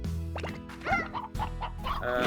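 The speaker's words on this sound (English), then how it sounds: "I'm just gonna launch all these hen-hens into here." Hen-hen chickens from the video game Slime Rancher cluck in short bursts, close and clear over a steady game music bed.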